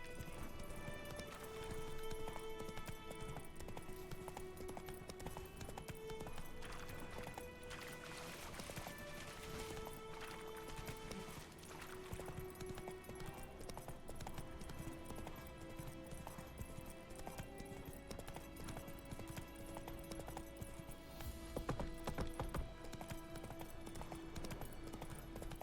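Hooves clip-clop at a steady gallop from a horse ridden through the game The Witcher 3, running under background music and ambient game sound, with occasional whinnies.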